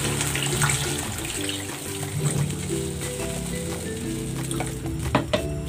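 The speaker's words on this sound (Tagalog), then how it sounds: "Nilalagyan ko na ito ng tubig." Water is poured into a pot of seasoned pork pata in a home kitchen, a steady splashing and gurgling stream that runs for several seconds. Near the end come a few sharp clinks of the pot.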